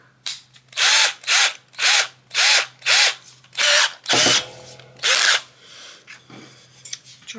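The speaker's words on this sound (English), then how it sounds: "drill a hole in the bottom of this" A power drill whirs in about eight short bursts while drilling a hole in wood, each rising and cutting off with brief pauses between, close and loud, then quieter handling noises.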